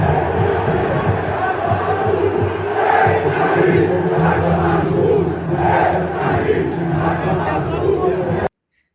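Angry Vasco football supporters chase coach Fábio Carille, raising a loud, continuous crowd roar of shouting and jeering voices that ends abruptly.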